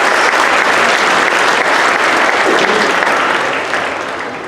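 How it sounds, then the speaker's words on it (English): An audience at a 5th grade school band concert claps for the student bell players, a loud, dense, steady burst of applause that tapers off near the end. "Applause for our bell players."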